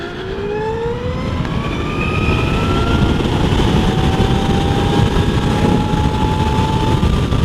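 A 2018 Zero DSR electric motorcycle accelerates hard in sport mode, its motor whine climbing steadily in pitch over steady wind and road roar. No one speaks.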